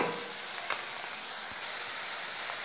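Green chilies and onions frying in a pan, giving a steady soft hiss and sizzle with a few faint crackles and stirring taps, close and even throughout.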